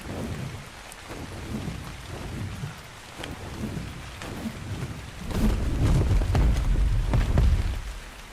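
A thunderstorm in Ark: Scorched Earth brings steady rain with rolling thunder that swells loud partway through, deep rumbles under the hiss of falling drops, no one talking.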